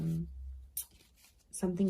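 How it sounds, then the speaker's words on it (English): Tarot cards shuffled by hand during a daily reading: a few brief, soft papery riffles and flicks between pauses, with a voice speaking at the start and end. "I'm just shuffling my other cards"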